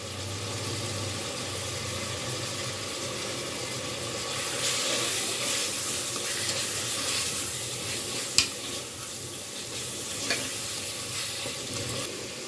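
Spices and whole garam masala frying in a pan for gobi chicken, a steady close sizzle with stirring scrapes and a couple of sharp clicks, no talk.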